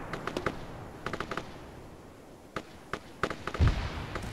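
Repeated 40mm grenade launcher blasts in a military shooter game, several sharp thuds in quick bursts at mid distance with quieter gaps between.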